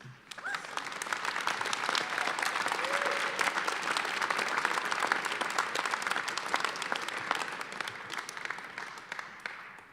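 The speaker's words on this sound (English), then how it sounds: "Graduates, I think it's your time to applaud the audience." University of Iowa Tippie College of Business graduates applaud their audience at a December commencement ceremony, dense sustained clapping from a large crowd in a hall, steady for the whole stretch and slowly thinning toward the end.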